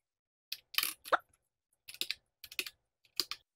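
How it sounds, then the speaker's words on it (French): Keys pressed on a heavy, very rigid computer keyboard: loud, close clacks in irregular bursts of two or three, with short silent gaps between them. "Le bruit des touches."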